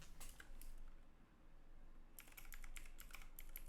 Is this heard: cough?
no